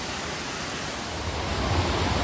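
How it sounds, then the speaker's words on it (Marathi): Somtirth waterfall near Nivendi village by Malgund and Ganpatipule, a steady broadband roar of rushing water that stays loud and even from start to finish with no voices. "पाण्याचा खळखळ आवाज"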